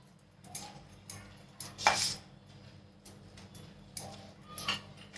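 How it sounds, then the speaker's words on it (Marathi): A spoon stirs a hot churma laddu mixture of wheat flour in a metal pan, giving scattered scraping clinks and taps at an irregular pace, fairly quiet and close with no voices. "आता गरम आहे ना ते त्यामुळे चमच्यानेच मिक्स करून घ्यायचं"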